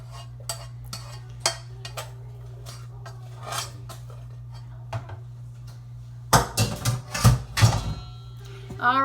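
Three cups of rice poured into a jambalaya pot, with scattered utensil clinks early on, then a louder burst of rustling, scraping pot sounds near the end over a steady low hum, close by.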